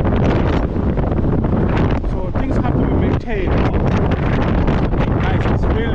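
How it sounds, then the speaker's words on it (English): Strong wind on Blackpool's north beach roars and buffets the microphone constantly, a loud rushing blast that never lets up. "it's really, really windy"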